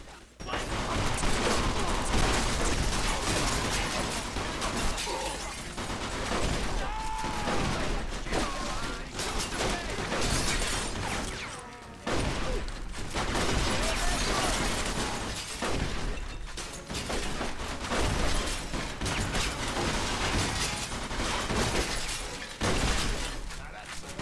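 Dense gunfire and shattering destruction in the Mafia II video game, rapid bursts of shots and crashing debris continuing almost without pause, loud throughout with brief drops.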